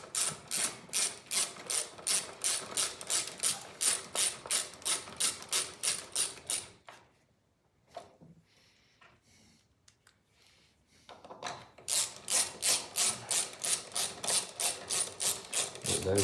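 Ratchet wrench clicking rapidly as it tightens machine-thread 5/16 bolts on a Briggs and Stratton lawnmower engine, steady ratcheting bursts close up, pausing briefly midway before resuming at the same quick pace.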